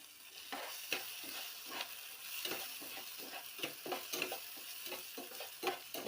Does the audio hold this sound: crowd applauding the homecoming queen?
no